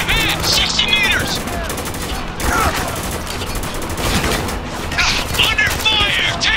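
Rapid bursts of gunfire fill a Spec Ops: The Line firefight, loud and continuous with overlapping shots and sharp impacts, while voices shout over the combat.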